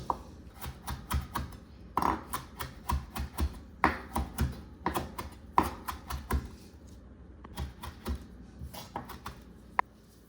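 Knife finely chopping about one and a half cups of parsley on a board, a fast run of sharp, close taps in quick irregular bursts with short pauses, no voices.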